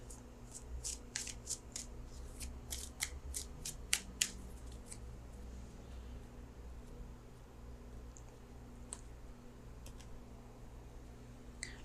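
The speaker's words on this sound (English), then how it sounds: "And so let me pull an outcome card." A tarot card is pulled from the deck, with a flurry of soft, crisp paper clicks and shuffling snaps over quiet room noise, then sparser faint ticks.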